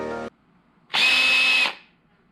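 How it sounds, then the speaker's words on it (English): A cordless power drill whirs for under a second, loud and close, then winds down; a brief harmonic tone precedes it. "A drill. Doesn't matter, cordless drill."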